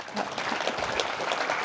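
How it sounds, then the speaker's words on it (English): A PyCon AU 2019 conference audience applauds the speaker Brenda Wallace, producing a dense, steady burst of clapping that carries on evenly with no talking. "please give a great hand of applause to Brenda Wallace"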